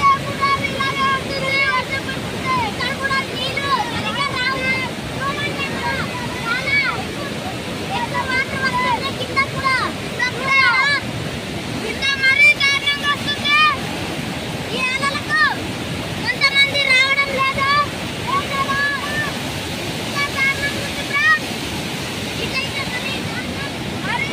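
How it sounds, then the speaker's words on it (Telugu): Kothapalli waterfall in monsoon, with heavy water pouring down in a steady, loud roar. Voices talk over it throughout, close to the microphone. "ఇప్పుడైతే చాలా దారుణంగా వాటర్ వస్తున్నాయి"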